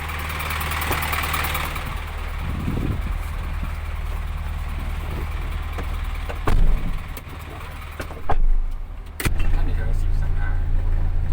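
An Isuzu FRR210 six-wheel truck towing a trailer runs on sand in fourth gear at low revs around 700 rpm, its steady low engine drone close and continuous, with someone talking over it and a few bumps and clunks.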